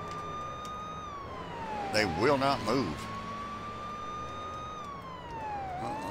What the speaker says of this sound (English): they need to make the AI listen to the sirens better